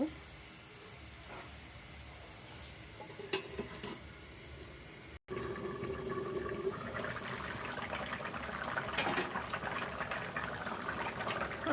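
Bottle gourd curry with water comes to a boil in a covered pot, giving a steady bubbling hiss that grows livelier partway through, alone with no talk.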